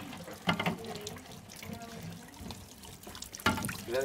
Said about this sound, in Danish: Urten køles ned til 26 grader og hældes på en rengjort og desinficeret gærtang.